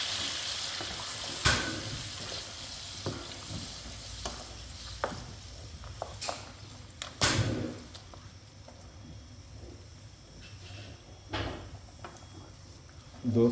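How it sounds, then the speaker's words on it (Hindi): Mutton frying in a karahi as ginger, garlic, tomato and green chillies are mixed in, a low sizzle under intermittent stirring clanks and scrapes, with a few sharper knocks. "अब इसमें अदरक, लहसुन और टमाटर और हरी मिर्चें जब हमने चॉप की तो वो इसमें ऐड कर रहे हैं।"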